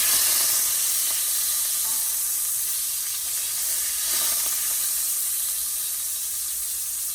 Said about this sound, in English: I'm just gonna start by sauteing my veggies.